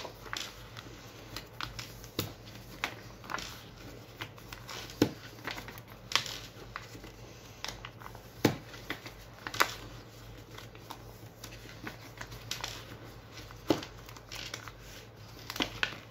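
Sheets of paper being folded fan-style and crinkled while crafting a paper peacock, giving steady soft rustles and crisp crumpling snaps close by, with no talk.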